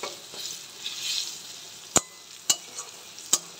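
Turmeric, chili, coriander, cumin and salt frying in a pan produce a soft, steady sizzle, faint and close, broken by three sharp clicks of a utensil striking the pan.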